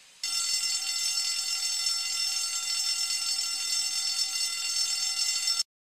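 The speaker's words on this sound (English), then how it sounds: "I'm going to pull the fire alarm." A building fire alarm blares after being pulled, a steady loud electronic ringing tone that starts abruptly, holds unbroken for several seconds, then cuts off.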